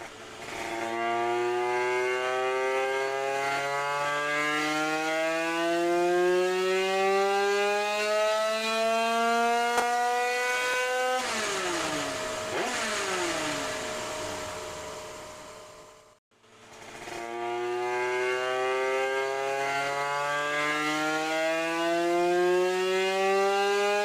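A prepared 88cc Italkit kart engine revs hard and loud on track, its harmonic whine climbing steadily through long pulls, briefly dropping and shifting mid-run, cutting out for an instant, then winding up again.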